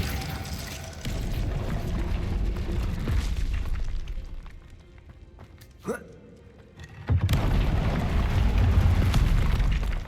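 A Bombarda spell explodes in the Hogwarts Legacy video game, with a sharp burst and rumbling blast amid ongoing game noise and a brief quieter gap before the sound swells again.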